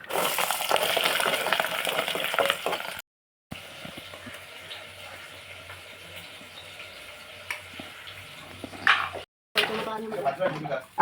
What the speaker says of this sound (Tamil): மசாலா கரைச்சி வச்சதை ஊற்றணும்.